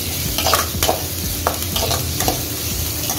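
Onions and chili sautéing in hot oil for chilli chicken, with a steady close sizzle and repeated scraping stirs of a spatula against the pan, with no voices.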